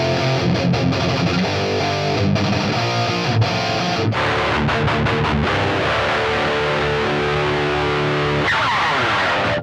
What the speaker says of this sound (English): I'm gonna go back and forth between the mic'd up cab and the cab sim sound during this riff